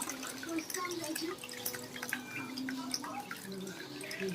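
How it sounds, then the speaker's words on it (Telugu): Squeezed tamarind pulp is poured into a Guntur-style bommidala fish curry, giving soft, scattered liquid drips and splashes that are faint and close, with no speech. "ఈలోపు చింతపండు పిసుక్కొని ఇలా పోసుకోవాలి గుజ్జు కోసం"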